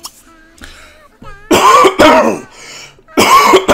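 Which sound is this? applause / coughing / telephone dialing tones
coughing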